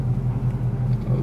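A car engine idles in a car wash, a steady low rumble with a faint pulsing hum throughout, close and continuous, with no clear talk.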